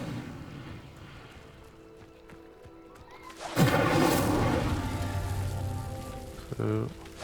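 After a quiet stretch, the Incendio fire spell bursts out in the video game Hogwarts Legacy as a sudden whooshing, crackling blast of flame that slowly fades, followed by a short magical flourish.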